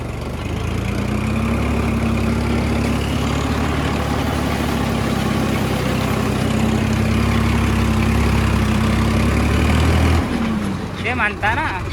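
A Farmtrac tractor runs a rotavator in first gear through a very wet, muddy field, its diesel engine droning steadily and loud with a low, even rumble that cuts off near the end.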